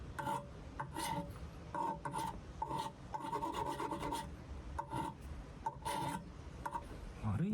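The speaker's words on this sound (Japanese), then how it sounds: "このヤスリでこの筋をでつけていけば" A hand file rasping a groove into a handmade knife blade: repeated short scraping strokes in an uneven rhythm, close and fairly quiet, with brief pauses between passes.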